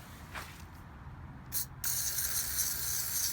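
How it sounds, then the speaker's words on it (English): A short hiss of aerosol cleaner spray bursts out, followed by a longer steady spray that continues to the end, close by against a quiet background, while installing a trailer jack. "Give it a nice spray down."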